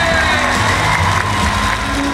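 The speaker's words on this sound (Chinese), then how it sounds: "给他们掌声好不好？" A huge audience at an arena concert cheers and applauds in a dense, continuous wash of clapping, whoops and shouts, loud and steady throughout.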